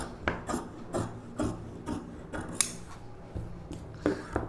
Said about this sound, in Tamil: இந்த அளவு அப்படியே ஸ்லீவ் கட் பண்ணிக்கலாம்